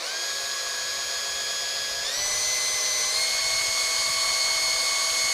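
An electric drill whines steadily at high pitch as it drives the oil pump of a Kawasaki Z1A 900 motorcycle engine, stepping up in speed twice, close and loud with no talking.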